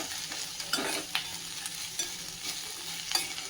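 Sliced okra is stirred and dry-fried in an uncovered pan until soft, giving quiet scraping strokes and light clinks over a faint, steady sizzle.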